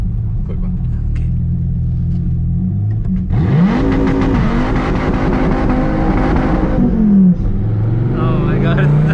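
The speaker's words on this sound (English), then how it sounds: "Can I do a burnout? Quick one." A Dodge Viper ACR rumbles at idle, then its engine revs hard into a loud, sustained roar with gritty tire noise for several seconds before settling back to a lower rumble.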